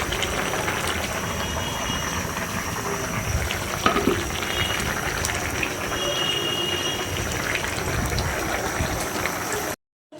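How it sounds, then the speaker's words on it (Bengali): Shrimp frying in a pan, a dense continuous hiss and crackle throughout with a few brief knocks, cut off near the end. "এখন আমি ভাজি করতেছি চিংড়ি মাছ।"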